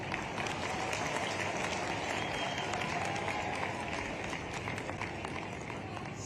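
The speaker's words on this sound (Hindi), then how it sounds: "और ऐसे में ताली इतनी कम बजे तो मजा ही नहीं आएगा।" Crowd applause at a public government inauguration event in Shujalpur, sustained, dense clapping from a large audience heard continuously at a moderate distance.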